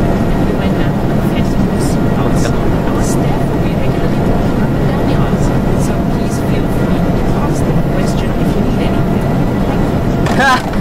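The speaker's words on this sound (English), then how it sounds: "you can't hear the announcements either because the plane is so loud" Airliner engines roaring on takeoff in a flight simulator game, a loud continuous broadband rumble and whine that holds steady throughout, with a higher chirping tone near the end.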